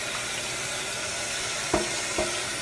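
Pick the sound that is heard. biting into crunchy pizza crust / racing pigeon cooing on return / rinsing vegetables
rinsing vegetables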